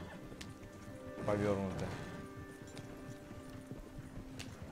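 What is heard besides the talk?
horse-drawn wagon hooves in video game Red Dead Redemption 2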